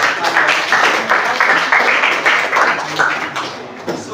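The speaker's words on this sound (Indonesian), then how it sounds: "Tepuk tangan dulu untuk kita semangat." Students in an Islamic studies classroom clap together in a steady, fairly loud burst of rhythmic hand claps that runs for several seconds, with faint voices mixed in.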